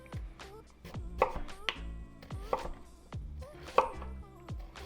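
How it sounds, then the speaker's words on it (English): A knife slices sweet potatoes into wedges on a cutting board for vegetable tempura, giving a steady series of crisp, close chopping thuds and clacks, about one every half second, with no talk. "On our sweet potatoes, again, cutting them in a wedge,"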